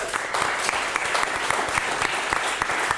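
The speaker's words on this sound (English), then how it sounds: "a big round of applause to the audience here in Ballard" A podcast's live audience in Ballard applauding steadily, a dense wash of many hands clapping close by for a few seconds.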